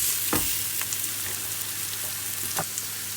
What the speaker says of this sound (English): I'm just going to let that sizzle and toast a little bit.